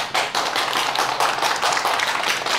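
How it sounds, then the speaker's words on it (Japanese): An audience claps in a room during a live broadcast celebrating a hundredth episode, with dense, lively hand claps and some sharper taps, close and continuous. "すごい、今日は拍手いっぱいですね"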